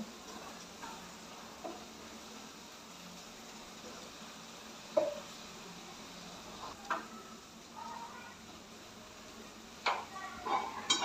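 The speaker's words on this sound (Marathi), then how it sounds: "कोथिंबीर सुद्धा व्यवस्थित मिक्स करून घेऊ" Egg bhurji masala sizzles steadily in hot oil as fresh coriander is stirred through it, with scattered soft scrapes and clicks of the spoon against the pan rising above the continuous frying hiss.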